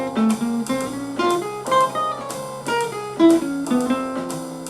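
A jazz guitar lick, a run of plucked single notes and small chord stabs that rises and falls in short melodic phrases, close and clear with no talking.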